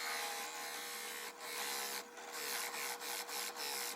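A tool cutting a hole in a wooden piece for a mason jar, giving a continuous faint high-pitched grinding with brief pauses and short repeated strokes toward the end.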